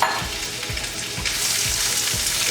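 Shrimp frying in a pan for garlic shrimp with pasta, a loud continuous sizzle with a few soft rhythmic stirring scrapes, close and alone.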